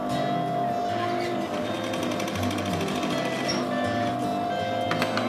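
A sewing machine stitches fabric for a child's dress, a rapid, steady mechanical chatter up close that runs continuously, with a faint voice now and then.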